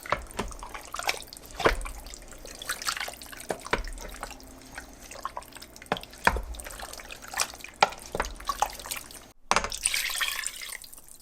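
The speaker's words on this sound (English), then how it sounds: "Pour it in the 2 cups" Water poured into an 8 quart Instant Pot, an uneven run of splashes and drips into the metal pot, close and moderately quiet, with short pauses between pours and no talking.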